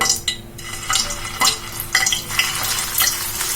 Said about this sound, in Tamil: ஒரு பேன்ல வந்து நான் எண்ணெய் ஊற்றி வச்சிருக்கேன் நல்லா சூடாயிடுச்சு இப்போ நம்ம ரெடி பண்ணி வச்சிருந்ததை ஒன்னொன்னா ஒன்றா எடுத்து ஆயிலில் போட்டுக்கலாம்